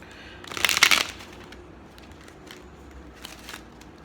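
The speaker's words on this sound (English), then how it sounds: "I love shuffling the cards." A quick burst of oracle cards being shuffled riffles up close, loud and crisp, then fades to faint rustling and a few soft flicks.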